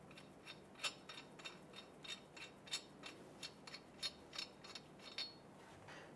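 Ratchet wrench removing a lug nut on a 1999-2004 Jeep Grand Cherokee, a quiet, steady run of about a dozen evenly spaced clicks close by.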